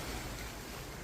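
Sea waves wash steadily onto a provincial beach, a continuous broadband surf roar with some wind noise, loud and close, with no voices over it.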